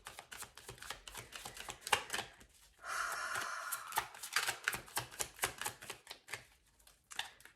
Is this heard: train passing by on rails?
no